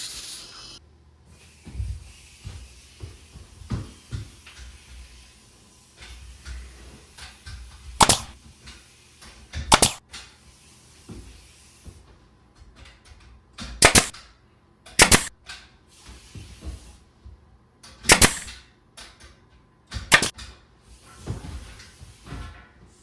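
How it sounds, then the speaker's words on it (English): A pneumatic nail gun drives nails into wooden studs while framing a dog house, with about seven sharp, loud cracks spaced a few seconds apart over quieter handling and shuffling noises. "Lock and load the nail gun,"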